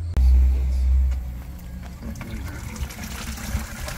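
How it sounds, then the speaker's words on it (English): Gray water from an RV galley tank drains out in a loud, steady gush at first, then settles into a softer, continuous trickle and splash of liquid. "So this is just galley tank water."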